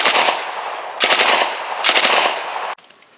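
A gun fires on full automatic in three long, loud sustained bursts at close range, each a dense roar of rapid shots, with a sudden stop after the last.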